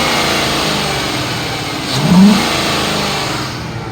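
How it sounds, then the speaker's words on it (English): A 2007 Ford F-150 XLT crew cab with the 4.6 liter engine, warm after an hour of running, holds a steady idle, then swells into one short rev near the middle before easing back to a smooth hum, close and alone. "Let me rev it up so you can hear the motor."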